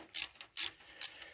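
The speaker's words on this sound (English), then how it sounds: "I'm just going to break them loose with the ratchet." A hand ratchet clicks through three sharp, close strokes with short gaps, breaking bolts loose during brake work on a Yanmar YM186D tractor.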